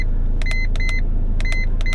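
An iCarsoft MB V2.0 diagnostic scan tool gives short electronic beeps in quick pairs, four pairs in all, clear and close over a steady low hum from a car.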